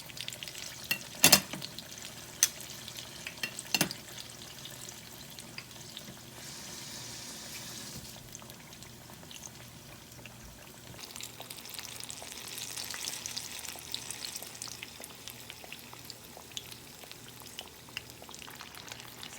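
Lumpiang turon, banana spring rolls with brown sugar, fry on medium heat in oil, giving a quiet, steady sizzle with occasional clicks and pops and no voices.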